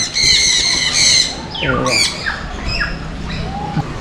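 Loud, harsh squawks from blue-and-gold macaws, several calls in a row, close and raucous, with softer calls trailing off afterward.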